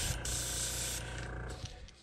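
An airbrush sprays white paint onto a crawfish fishing lure in a close, steady hiss that lasts about a second, followed by a softer tail-off.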